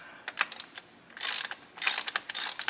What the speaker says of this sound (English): Now it's the same socket to remove the drain bolt.